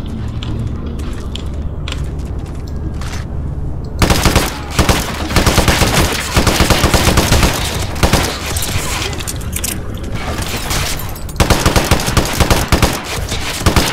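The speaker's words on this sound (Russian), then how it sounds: "Это откуда и кто стреляет?" Sustained automatic gunfire in the stealth shooter game Hitman Absolution, a quieter stretch giving way to loud, continuous rapid bursts of machine-gun fire that rattle on without pause.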